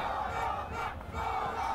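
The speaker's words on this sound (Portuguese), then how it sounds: "Olha a torcida da Colômbia crescendo." Colombian supporters in a World Cup match crowd in Pro Evolution Soccer 2018 roar and chant steadily throughout, a dense continuous stadium din with a brief dip midway, no voices talking over it.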